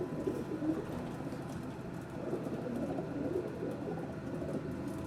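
Racing pigeons coo steadily in a loft in Bradford, a soft low murmur of overlapping calls with faint rustling, continuous and close, without speech.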